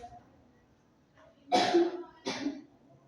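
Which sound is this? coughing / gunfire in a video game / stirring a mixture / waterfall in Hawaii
coughing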